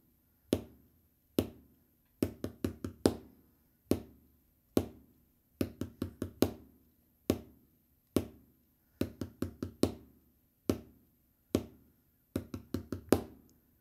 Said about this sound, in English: we're squeezing the first 4 notes of that 5-stroke roll in just to that 1 beat of time